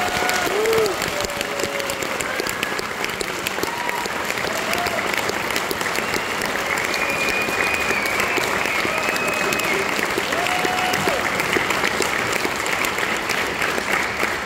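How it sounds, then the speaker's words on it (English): An audience applauds a group of students for nearly fifteen seconds at a Pony Express ride event, a loud, even wash of clapping with faint crowd murmur. "So could you please give them one more round of applause?"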